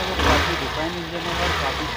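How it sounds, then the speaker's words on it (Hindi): A 2021 Hero Glamour XTec 125 BS6 motorcycle engine idles steadily with a low, even rumble, close by and continuous, while someone talks over it. "बाइक स्टार्ट हो चुकी है तो मैं आपको इसके इंजन का साउंड सुना देता हूँ"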